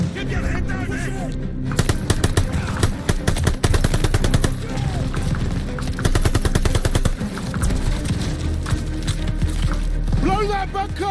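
Rapid machine gun bursts and scattered gunfire crackle through a World War II battle in Call of Duty: Vanguard. The loud, dense shots come in rattling volleys, with soldiers shouting over the combat and a brief musical flourish near the end.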